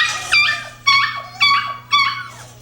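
A shelter dog whimpers in four high, drawn-out whines that come at a regular pace, close and fairly loud over a low steady hum, with no one talking.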